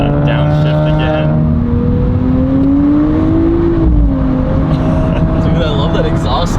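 Nissan Z with a 420-horsepower engine, its exhaust note rising and falling through a gear shift while driving onto a freeway, loud and steady with cabin road noise and people talking over it.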